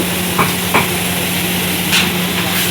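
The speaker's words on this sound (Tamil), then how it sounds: "நல்லா வதக்குறாரு. நல்லா வதக்கிட்டு இருக்காரு." Kothu parotta with onion, white and black pepper and chilli powder sautéing on a hot griddle, giving a continuous loud sizzle close by, broken by a few sharp spatula taps.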